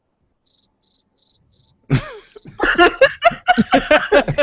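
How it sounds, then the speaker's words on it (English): Short cricket chirp sound effect, four evenly spaced high chirps alone, followed by a burst of loud laughter and talk from several people. "You're gonna have to have crickets sometimes"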